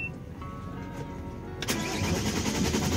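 A boat engine cranking and catching after a loose dashboard terminal is fixed, sputtering into a steady mid-pitched idle partway through, close and fairly loud with no talk.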